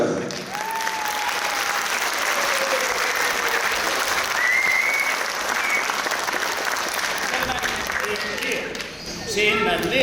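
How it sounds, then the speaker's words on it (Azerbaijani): Sustained audience applause fills the hall at a 75th-birthday celebration event, dense clapping held at a steady loud level for the full stretch with a few brief whistle-like tones rising above it, fading slightly near the end. "Ürəkdən alqışlayaq."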